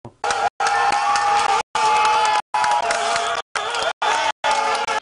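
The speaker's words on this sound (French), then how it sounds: "chaque belle action des Rapaces suscite des applaudissements" A loud crowd cheering and applauding in a large open venue during a Rapaces match, the roar cut into several chopped bursts.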